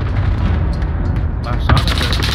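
Gunfire in the video game Rebirth, heard as a loud burst near the end of a dense, rumbling game soundscape.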